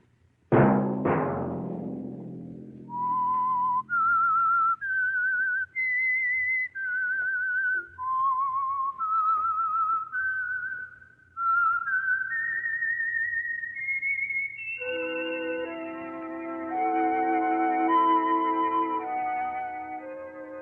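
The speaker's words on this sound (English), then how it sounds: "Let that whistle be your signal" A bright whistled theme melody of sustained notes from a 1950 radio drama, played alone after a short opening chime, ending with a fuller musical backing.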